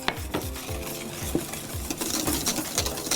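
A spoon or whisk stirs a custard mixture in a bowl as just-boiled hot milk is poured in, giving a steady rhythmic scraping and sloshing close up, with regular strokes about every third of a second and no talk.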